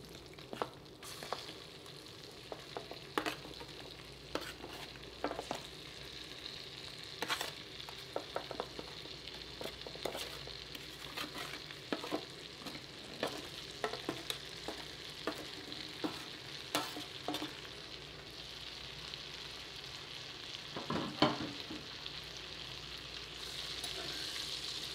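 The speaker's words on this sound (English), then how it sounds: "we're going to add in our butternut squash that we have roasted off here in the pan" Roasted butternut squash pieces frying in browning butter in a pan, with a steady sizzle and frequent scraping, stirring clatter throughout and no voices.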